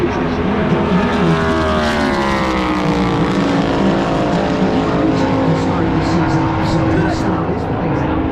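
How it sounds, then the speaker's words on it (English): Denny Hamlin's Joe Gibbs Racing Cup car runs a lap at Daytona 500 qualifying in 2025. The V8 roars loud and close, its pitch sliding down steadily as the car sweeps past, and the engine drone continues throughout. "Hamlin comes across the line"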